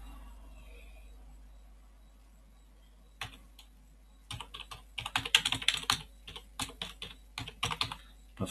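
Someone types on a computer keyboard while editing a .spacemacs config file. It begins with a single keystroke, followed by a dense burst of rapid, close, irregular key clicks and taps, with no voice.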